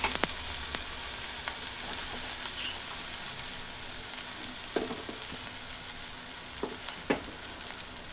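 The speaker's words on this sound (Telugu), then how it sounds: "వేగుతూ ఉంది కదా." Ingredients for uggani fry in a pan with a steady, close sizzle, broken by a few clinks and scrapes of stirring.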